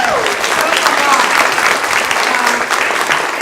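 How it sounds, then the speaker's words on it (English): An audience at a community candidates forum applauds steadily and loudly for the candidates, a dense wash of clapping that holds for the full stretch with talk faintly underneath. "let's give our candidates another round of applause"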